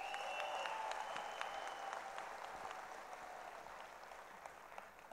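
Applause from an audience thanking the Vestige winning team at a gathering, a steady wash of clapping that thins gradually over about five seconds, with a few sharper claps and a faint whistle-like tone early on.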